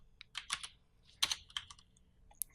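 Computer keyboard keys clatter while code is typed: quick clusters of close, crisp clicks with brief pauses between bursts and no voices.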